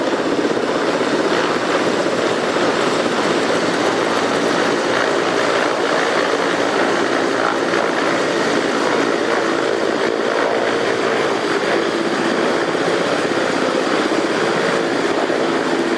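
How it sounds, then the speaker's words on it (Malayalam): A helicopter carrying officials and security staff for the President's Sabarimala visit arrives at Pramadam stadium, its rotor and engine roar loud and constant throughout, with no talk. "രണ്ടാമത്തെ ഹെലികോപ്റ്റർ പ്രമാടത്തേക്ക് എത്തുന്നു."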